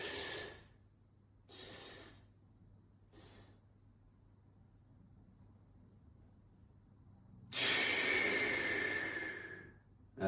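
A three-stage breathing exercise during a fascia movement routine: three short, soft inhales in quick succession, a pause, then one long, loud hissing exhale close to the microphone.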